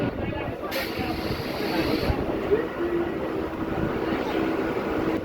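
A local train runs along with a steady, close rumble and rattle of the carriages, unbroken for the whole stretch, with voices murmuring faintly beneath the noise.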